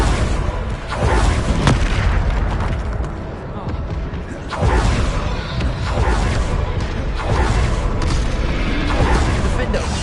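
Bombarda spell explosions in Hogwarts Legacy, heavy booming blasts that repeat every couple of seconds amid continuous loud battle noise, with a voice shouting spell names over them.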